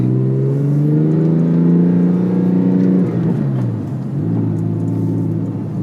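Deep, throaty Porsche 997 exhaust with an aftermarket system in sport mode, revving up and easing back down, a loud close rumble with a second rev, no talking.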